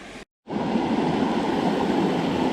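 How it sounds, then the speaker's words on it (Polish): A waterfall roars with a steady, loud, close rushing wash that fills the scene right after a brief cut of silence near the start, with no voices over it. "No i dotarłem na ten piękny wodospad."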